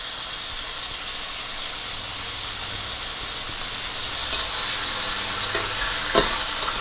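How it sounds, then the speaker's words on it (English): Beef steaks seared in a hot pan for a Blue Cheese Beef Wellington: a loud, continuous close-up sizzle and hiss that swells slightly toward the end, with no voices. "just get a nice sear on each side of it"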